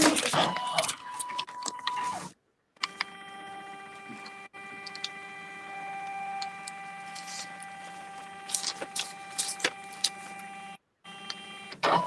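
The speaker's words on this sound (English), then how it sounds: "I'm going to let the machine scan" An embroidery machine runs an image scan of its hoop holding craft felt, giving a steady close mechanical whir with faint ticking, briefly stopping twice before resuming.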